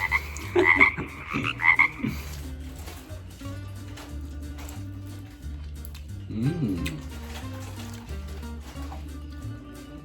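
A voice imitates a frog's croak in a few quick bright bursts near the start, over a steady musical backing, while frog adobo is being cooked in Cagayan.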